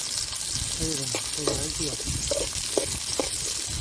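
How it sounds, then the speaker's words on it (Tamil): Onions sauté in cold-pressed oil in an outdoor village kitchen while a country chicken fry is prepared, giving a continuous close, crackling sizzle with a voice talking over it. "வெங்காயத்தை நல்லா வதக்கவும்"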